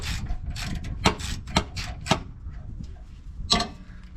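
Ratchet wrench tightening an end link on a Land Cruiser FJ80, a run of close, crisp clicking strokes, some sharper and louder than others, with brief pauses between.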